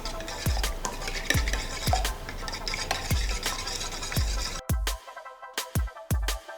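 Egg mixture with black pepper powder is stirred briskly in a bowl, with regular utensil clicks about every half second, close and clear, ending in a few separate taps.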